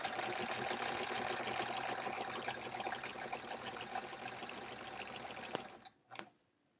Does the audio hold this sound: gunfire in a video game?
no